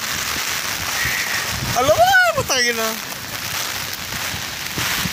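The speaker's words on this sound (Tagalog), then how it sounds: "Alright, so lumakas pa ng ulan, may payong kami." Heavy rain falls in Bacoor as a steady broadband hiss beneath a person speaking briefly in the middle.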